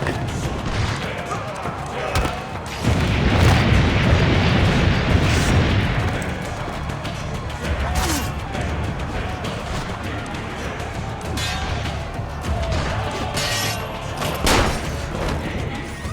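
Repeated booms and blasts of cannon fire in Assassin's Creed Brotherhood amid battle clatter and crashes, with voices talking over the noise.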